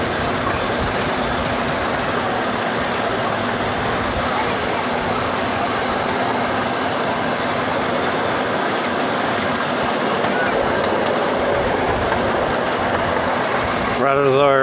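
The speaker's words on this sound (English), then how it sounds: "I'm sitting a little close to the locomotive." Steady rumble and rattle of a moving freight train heard from a car riding close to the locomotive, a continuous broad roar with a brief squeal near the end.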